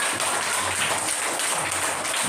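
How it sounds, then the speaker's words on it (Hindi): Schoolchildren and teachers at a Teachers' Day gathering in a primary school clapping for three pupils, a steady, dense patter of many hands, fairly close and continuous with no talk over it. "एक बार भाई तीनों बच्चों के लिए जोरदार ताली"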